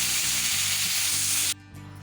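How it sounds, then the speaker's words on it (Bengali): Baim fish frying in hot oil, a loud dense sizzle that drops abruptly near the end to a quieter hiss, with no talking. "বন্ধুগণ, তেল গরম হয়ে গেছে, মাছটাও দিয়ে দিয়েছি। মাছটা এখন ভেজে নেব।"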